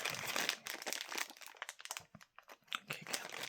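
A plastic bag from a Temu order crinkles and crunches as it is cut open, close and continuous with rustling bursts and brief pauses, no voices.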